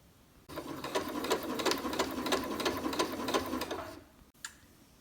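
Sewing machine hemming the buttons of a pinafore dress shut: a close, even run of rapid needle ticks and motor whir lasting about three and a half seconds, starting and stopping cleanly in a quiet room.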